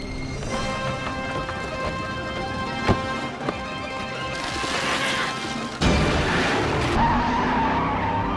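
A car skids and drifts during a high-speed highway chase in a movie, tires squealing in long stretches with sharp impacts and a surge of engine and crash noise.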